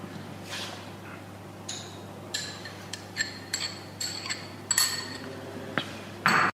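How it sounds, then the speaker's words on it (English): Metal spoon clinking against a bowl while turmeric, red chili powder, garam masala, salt and curd are mixed for a Himachali dish, a series of light, irregular taps and scrapes over a steady low hum, fairly close. "Now we will mix it and add curd to it."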